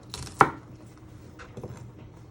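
One sharp knife chop on a board cutting onions is followed by a couple of softer cuts and scrapes, all close and quiet, with no voices.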